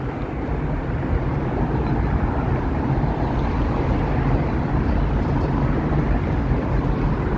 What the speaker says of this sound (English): there's a subway going underneath me right now